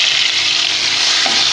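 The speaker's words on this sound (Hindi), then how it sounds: "अब इसको अच्छे से मिक्स करेंगे, इसकी भुनाई करेंगे इसी तरह से।" Browned onion masala with dal frying and being stirred in a pan, a steady, close, loud sizzle with a brief scrape of the spoon near the end and no voices.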